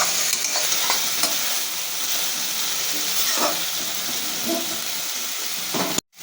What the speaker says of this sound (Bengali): এবার এটাকে খুব ভালো করে নাড়াচাড়া করে নামিয়ে দেবো